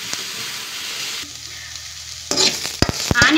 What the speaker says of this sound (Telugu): రెండు స్పూన్ల ఆయిల్ వేస్తున్నాం ఆనియన్లో కలుపుకున్నాం బ్రౌన్ కలర్ వచ్చేటట్టు వేసుకున్నాం